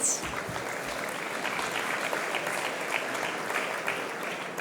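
Warm applause greets a CEO taking the stage at a conference on the metaverse and real estate, a broad steady clatter of many hands lasting several seconds without speech.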